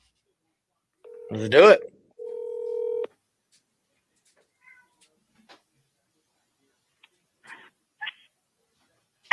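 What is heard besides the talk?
phone dialing tones while calling a seller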